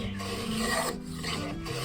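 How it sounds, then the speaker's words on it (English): A blade scraping across local Huon pine in a backyard workshop, making a steady, close, continuous rasping rub with slight rhythmic pulses as the stroke repeats. "The scrape of a blade against local Huon pine"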